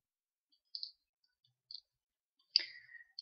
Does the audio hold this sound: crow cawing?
no